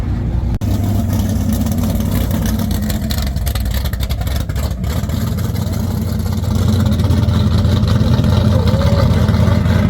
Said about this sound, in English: The car sounds angry.